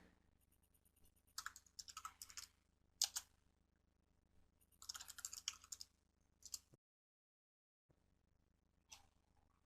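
Bursts of quiet computer keyboard typing come in short clusters of keystrokes separated by pauses, including a moment of total silence, faint and close with no talking.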